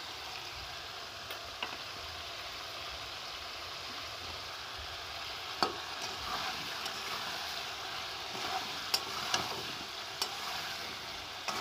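Potatoes with chilli, turmeric, cumin and coriander powders fry quietly in a pan while being stirred, a soft continuous sizzle broken by occasional scraping clicks of the spoon.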